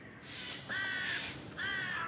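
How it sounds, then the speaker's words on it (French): Crows cawing in the tree-filled Père Lachaise cemetery in Paris, two loud, close harsh caws about a second apart, standing out over a soft outdoor ambience. "les corbeaux sont de loin les plus bruyants"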